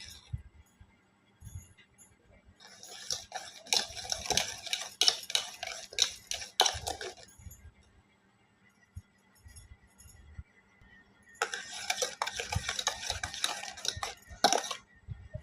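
Egg and sugar mixture whisked in a bowl for pancake batter, a utensil clinking rapidly against the sides in two long bursts separated by a pause, close and clear with no talking.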